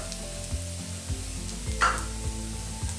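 Browning onions sizzling in a pan with chili, black pepper and turmeric powder for a Kerala idi irachi dish, a steady loud frying hiss punctuated by rhythmic low thumps of stirring roughly every half second.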